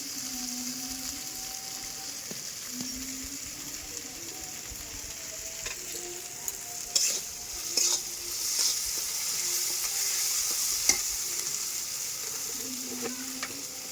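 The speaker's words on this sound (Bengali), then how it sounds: "একটু জিরার গুঁড়ো তেলের মধ্যে দিয়ে দিই" Cumin powder and other spices sizzle and fry in hot oil for a Bengali fig and potato curry, a steady close crackle with occasional stirring scrapes and small clinks, no voices.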